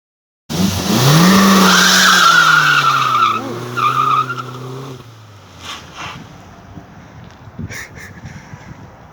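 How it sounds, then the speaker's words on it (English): A car doing a burnout at a budget racetrack, loud tire squeal and engine roar rising and sustained for several seconds, then cutting off and fading into quieter scattered noise. "She does the good burnouts."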